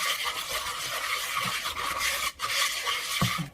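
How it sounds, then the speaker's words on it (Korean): Thin pancake batter made with water is stirred briskly in a bowl, producing a continuous wet, scraping swish close up. "일단 반 정도만 넣고 섞어 볼게요."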